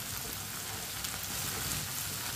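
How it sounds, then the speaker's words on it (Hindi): Okra (bhindi) frying in a pan while a spoon stirs it, a dense, steady sizzle filling the whole moment, close and loud with no voices. "ऐसे ही चम्मच चलाते हुए इसे हल्का सा ब्राउन करना है"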